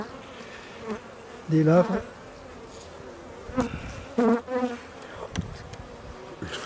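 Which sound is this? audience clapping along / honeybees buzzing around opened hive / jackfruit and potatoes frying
honeybees buzzing around opened hive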